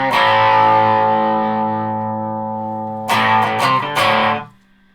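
Germanium Big Muff fuzz pedal with its bias control at maximum, a loud, thick, buzzing sustained chord that slowly decays, then several choppy re-struck chords before cutting off into quiet.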